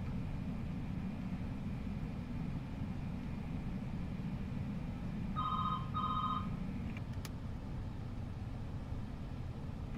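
A telephone ringing during a flight simulator session of an approach to Paro, Bhutan: two short ring bursts over a steady, loud cockpit engine drone, with no talking.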